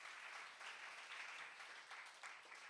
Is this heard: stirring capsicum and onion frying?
no